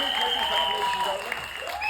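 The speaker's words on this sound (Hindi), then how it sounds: "जैकी श्रॉफ साहब के लिए एक बार दिल खोल के तालियां बजाओ यार" Audience applause for Jackie Shroff at a star-studded trailer launch event for Hunter Season 2, a steady wash of clapping from a crowd, fairly loud, with a voice talking over it.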